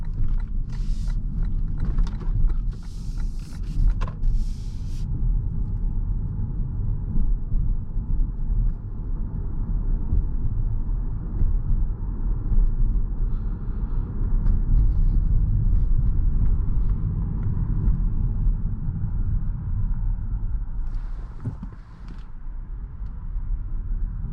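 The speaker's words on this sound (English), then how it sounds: "So you can kind of hear that EV whir" A 2023 Lexus ES300h F Sport hybrid drives in EV mode, a faint steady electric whir over a constant low road rumble inside the cabin, with a few light creaks and rattles.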